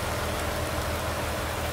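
Steady, even rain patters down in the Farming Simulator 19 video game, a dense continuous wash of drops with no other sounds.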